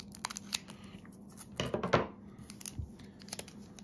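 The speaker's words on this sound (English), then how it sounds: "Let me just open this up. I have a scissors, that will help a lot." Scissors snip close by through the crinkly foil wrapper of a Kirby trading card pack, several short cuts with rustling and crinkling in between, no talking.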